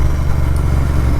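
A Royal Enfield Interceptor 650 fitted with a Red Rooster performance exhaust rumbles with a deep, steady, loud engine note for a brief moment.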